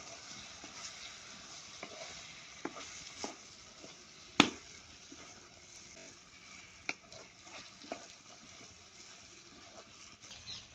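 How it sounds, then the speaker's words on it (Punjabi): Peas frying in masala in a pan for a cabbage and green pea sabzi, a soft continuous sizzle with occasional sharp clicks and scrapes of stirring, fairly quiet. "ਮਟਰ ਮਟਰ ਵੀ ਮਸਾਲੇ ਦੇ ਵਿੱਚ ਚੰਗੀ ਤਰ੍ਹਾਂ ਭੁੰਨ ਲੈਨੇ ਆ"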